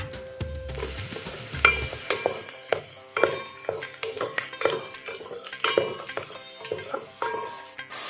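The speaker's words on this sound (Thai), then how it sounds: "พอผัดเนื้อสัตว์ให้สุกข้างนอกพอสุกแล้วนะคะ" Chicken stir-frying in vegetable oil in a pan for chicken rice, heard up close as a gentle sizzle under rhythmic spatula scrapes and clacks against the metal.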